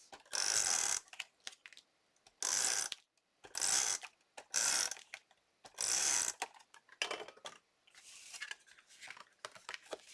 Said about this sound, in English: I'm going to use my tape runner to attach it to the card base.